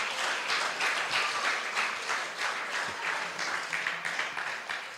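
A church congregation claps in praise of the Holy Spirit, a dense, steady wash of many hands filling the room, sustained and fairly loud with no clear pauses.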